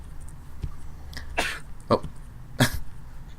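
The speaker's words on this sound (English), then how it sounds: "It says it's either coughing man or sneezing man, and nothing happens, but when you walk away from it, it does the sneeze." Sneezing man sound effect from the Ib horror puzzle game: a few short bursts of breathy, throaty vocal noise, a sharp build-up followed by an explosive sneeze, heard fairly close over faint background hum.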